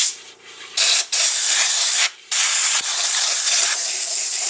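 Compressed air blasting loudly in several bursts to clean out a Makita thickness planer after blade removal, harsh close hissing with short gaps between blasts.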